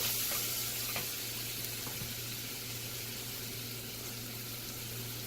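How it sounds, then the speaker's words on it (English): Garlic sweating in a pan for a beer-braised chicken stew gives a steady, soft sizzle with faint stirring clicks, continuous and moderately quiet throughout, no voices. "I'm going to add my garlic. I'm going to sweat that until it gets aromatic."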